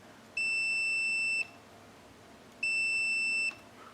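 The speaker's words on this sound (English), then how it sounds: "When I press this button, it should make the multimeter beep." Multimeter emitting a steady high-pitched continuity beep twice, each lasting about a second while a momentary switch button is held, with a clean cutoff and a short gap between, close and clear over faint room hiss.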